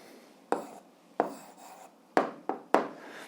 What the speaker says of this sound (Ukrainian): Тоді записуємо відповідь, пишемо відповідь.